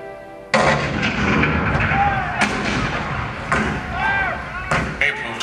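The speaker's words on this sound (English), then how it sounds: "Fort Sumter. The cannon spoke for war." Cannon fire for the bombardment of Fort Sumter in a Hall of Presidents show: several loud, booming blasts spaced a second or so apart, each with a rumbling tail, mixed with dramatic show audio.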